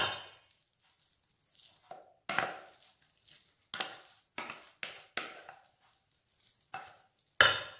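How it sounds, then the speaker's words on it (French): Cooked rice being folded into a cake batter for an Algiers-style rice cake, a series of soft, wet squelching strokes and scrapes arriving in irregular bursts with quiet gaps between, close and fairly faint. "Maintenant, incorporez le riz au mélange."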